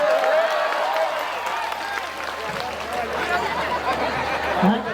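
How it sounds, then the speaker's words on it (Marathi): An audience claps throughout a Home Minister stage show in Kola, Sangola, the steady applause blending with crowd chatter while a voice talks over it. "या माऊलीला पैठणी द्यायला पाहिजे का तुम्ही टाळ्या वाजवून सांगा"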